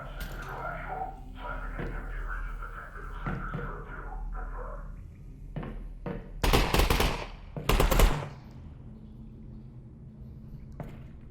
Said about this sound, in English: That shooting kind of startled me